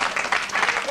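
Studio audience applause, a brief, steady patter of many hands clapping at moderate loudness.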